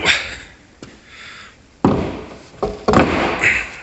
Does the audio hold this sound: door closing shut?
yes